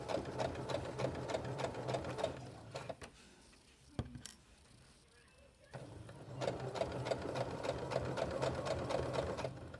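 A sewing machine stitches a fabric face mask in fast, even rhythmic bursts, pausing briefly in the middle with a click before resuming the steady whir.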